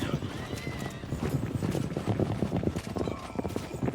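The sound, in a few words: cavalry horses in battle in the video game Citadelum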